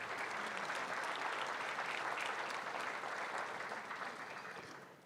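Sustained crowd applause at a university centennial closing ceremony, dense and even clapping from a large audience, fairly loud and continuous before tapering off at the end.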